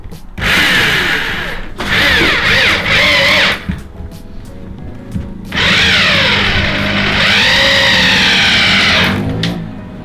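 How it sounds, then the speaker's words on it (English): A hammer drill whines loudly in several bursts, revving and bogging as it bores, with brief pauses between runs and no talking. "This is a hammer drill"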